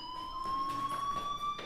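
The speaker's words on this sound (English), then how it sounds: "do you hear that fire alarm?" Fire alarm ringing in the video game Life is Strange, a steady high electronic tone with harmonics held continuously across the clip, with faint pulsing background.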